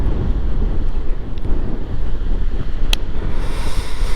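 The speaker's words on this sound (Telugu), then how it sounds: "చూడు గాలి ఎంత ఉందో అసలు." Strong gusts roar across the open water of the Sriram Sagar reservoir, buffeting the microphone with loud, continuous low rumble and a faint rush of waves, and no voices.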